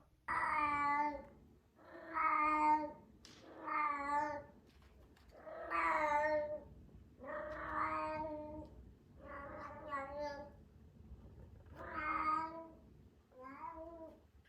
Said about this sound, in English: I'm going to show you a few video clips of Blossom yowling so that you know what I'm talking about.